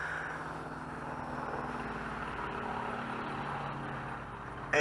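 XK X251 brushless mini quadcopter in flight, a steady whirring motor drone held for several seconds at moderate distance, with a sharp louder burst right at the end.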